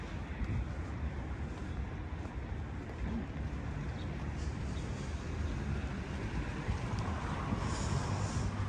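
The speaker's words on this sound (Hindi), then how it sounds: "बहुत ठंडी हवा चल रही है।" Cold wind gusts steadily at the entrance of the Ashab-e-Kahf cave, a continuous broadband rush with low rumbling buffeting against the microphone, loud and unbroken throughout.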